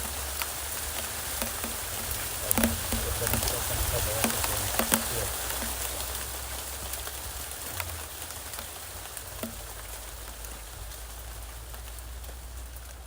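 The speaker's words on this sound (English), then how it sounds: "Rain is coming down." Steady rain falls outdoors in rural Jamaica, a dense continuous patter with occasional sharper drops striking nearby surfaces, moderately loud and unbroken throughout, with no voices.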